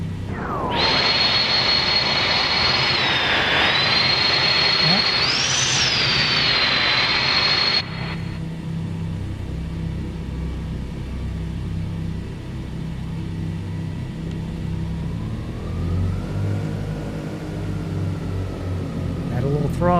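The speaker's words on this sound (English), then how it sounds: "I believe we have both engines going." Both engines of a DC-3 in Microsoft Flight Simulator run steadily, first as a loud, high whining drone, then dropping to a lower, even rumble for the rest of the clip.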